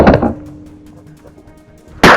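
Two loud, sharp gunshots crack about two seconds apart at close range during a wild boar hunt on a farm. A brief echo fades in the quiet between them.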